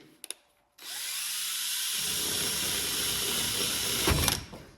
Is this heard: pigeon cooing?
no